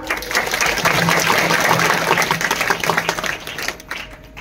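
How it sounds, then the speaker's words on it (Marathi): An audience at a devotional kirtan during a Ramdas Maharaj parayan gathering claps loudly and steadily for several seconds, a dense close wash of applause that thins slightly toward the end. "म्हणून सगळ्यांनी एकदा जोरदार टाळ्या वाजवा."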